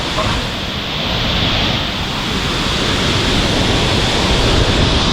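Khlong Lan waterfall in Thailand roars with rushing, crashing water, a loud continuous broadband wash heard close by and alone, with no talking.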